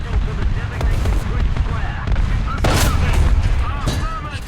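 An HE shell fired from a tank cannon, a French AMX-50 at 7.7 in War Thunder, booms once amid steady battle rumble and scattered distant gunfire, with a voice talking over it.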